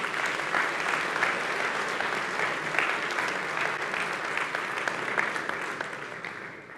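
Audience applause for the technical staff at a programming contest closing ceremony, a dense steady wash of many hands clapping that carries on throughout and fades slightly at the end.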